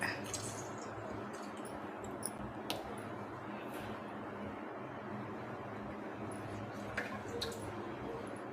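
Fresh lemon squeezed by hand over cooked rice while making lemon rice, giving soft close squishing and faint liquid drips over a low steady background, with no talking.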